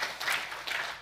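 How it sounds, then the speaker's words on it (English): Brief burst of audience applause at a conference, moderately loud and dense, swelling and easing over about a second. "A round of applause for Stevie."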